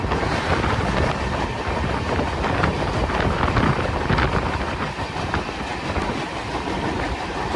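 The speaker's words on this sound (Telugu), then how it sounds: "గౌహటి ఎక్స్ప్రెస్ ఇది వ్యాప్ 7." A crowded Guwahati Express passenger train hauled by a WAP-7 electric locomotive rumbles past close by, its steady wheel clatter and wind rush filling the whole stretch without a break.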